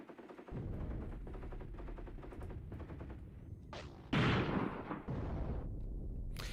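Artillery guns firing in the Graviteam Tactics: Mius Front war game, a steady barrage of booming reports with a louder close blast near the end, continuous and dense with no talk.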